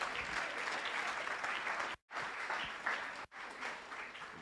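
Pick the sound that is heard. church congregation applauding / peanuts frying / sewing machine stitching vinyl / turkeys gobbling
church congregation applauding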